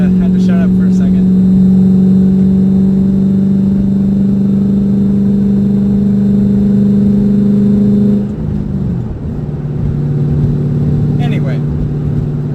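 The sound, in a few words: 2007 Ford Mustang GT engine running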